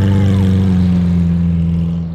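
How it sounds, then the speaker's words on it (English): A Ford GT doing donuts in the street at a charity car show: a loud, sustained, droning engine roar held steady at high revs, easing slightly at the end. "How crazy was the Ford GT donut?"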